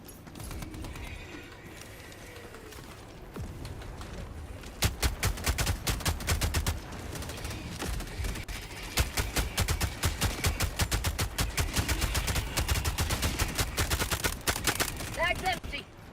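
Rapid bursts of automatic gunfire from a video game weapon being emptied, dense repeated shots in quick runs that stop and restart, loud and close, with a voice talking faintly earlier in the clip.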